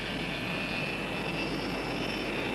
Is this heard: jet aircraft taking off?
yes